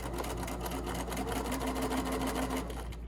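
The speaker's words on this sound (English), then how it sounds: "I'm lining the edge of my fabric up with the edge of the presser foot and backstitch." A sewing machine runs steadily, stitching and backstitching a seam along the edge of fabric for an invisible zipper bag, a close, continuous mechanical whir with no talk.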